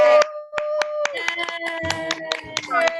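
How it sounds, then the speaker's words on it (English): Scattered claps ring out on an online storytelling call as participants unmute, a handful of separate sharp hand claps spaced unevenly, mixed with overlapping voices and chatter. "One more round of applause for our storytellers"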